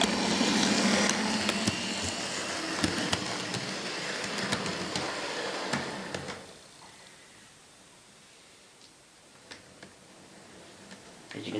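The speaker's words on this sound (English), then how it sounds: "So I'll run the locomotive in reverse." A ScaleTrains GE Dash 9 model locomotive runs in reverse with a soft, steady mechanical whir and faint clicks, louder at first and then quieter.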